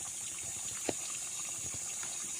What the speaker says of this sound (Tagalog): Yan ang bukal.